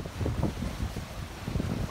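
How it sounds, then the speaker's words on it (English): Strong wind of about 20 miles an hour, half a mile off the coast of Hawaii, buffets the microphone in a steady, rumbling roar with gusty low swells, no voices. "Winds are about 20 miles an hour."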